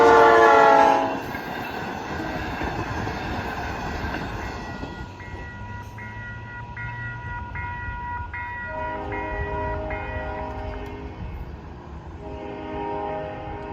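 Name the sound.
double-decker train passing without stopping, horn sounding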